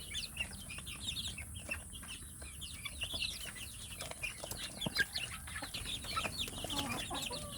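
Dense chorus of native chicken chicks chirping and clucking close by, a continuous busy cheeping with no voices.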